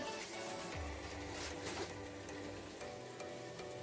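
About 50 grams of margarine melts in a pot with a soft, steady sizzle and faint bubbling, quiet and continuous throughout.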